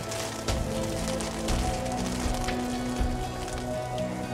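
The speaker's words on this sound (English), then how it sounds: "Soon hail came down on the garden." Hail falling in a garden as an animated story sound effect, a steady dense patter of pellets on surfaces, fairly loud and continuous with no talk.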